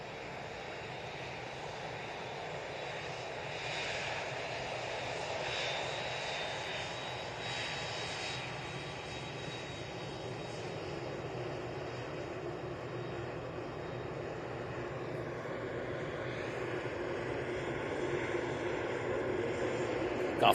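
An Airbus A380 taxis past close by in the morning, its engines giving a steady, broad jet rumble and whine that holds for the full stretch and swells slightly near the end.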